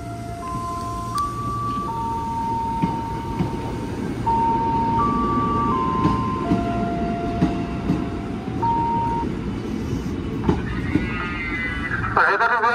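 An electric commuter train, a TM 7000 unit in a KRL parade, rolls past, its motor whine climbing in distinct stepped tones over a steady rumble of wheels on track.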